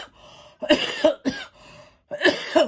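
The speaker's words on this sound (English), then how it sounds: "going to apologize for the cough" Several harsh coughs in quick bursts, close and loud, separated by short pauses.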